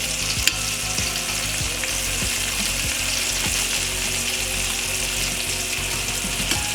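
Swedish meatballs frying in a pan, a dense continuous sizzle with occasional pops and light clicks, close and steady throughout with no talking.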